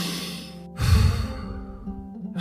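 A deep, slow breath taken in and released at the start of a breathing exercise, one full airy sigh close up, alone without talk.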